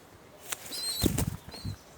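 A pigeon's wings flap in a quick burst of fluttering beats, close and fairly loud, with a faint high chirp in the background.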